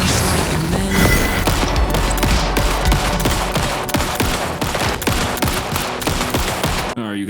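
Rapid, loud gunfire rings out in Alan Wake 2 as a weapon is emptied into a ghost enemy, the shots coming in a dense, continuous volley before cutting off abruptly.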